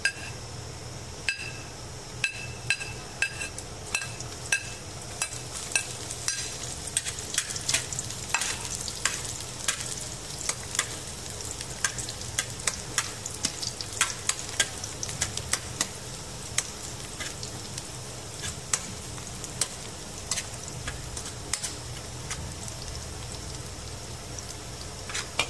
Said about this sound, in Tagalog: magigisa na tayo ng bawang sibuyas